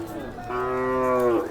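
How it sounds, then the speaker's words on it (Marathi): A Kajali Khillar cow at the Sangola cattle market lets out a single drawn-out moo, close and fairly loud, rising and holding before fading. "बघू शकता इथे एक चांगल्या क्वालिटीची गाय आहे, काजळी खिल्लारमध्ये आहे"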